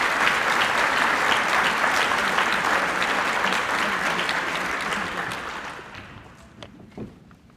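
Warm, steady applause for university graduates at a commencement ceremony, a full crowd clapping that gradually thins and fades toward the end with a few scattered claps and shuffling.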